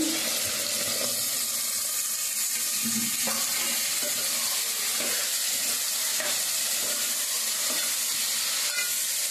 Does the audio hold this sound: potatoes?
yes